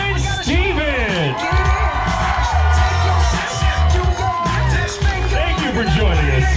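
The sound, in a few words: wedding guests applauding and cheering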